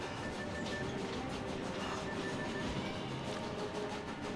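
Train rumble and rattling in the Killer is Dead video game, a steady, loud mechanical roar with faint clacking that continues without pause.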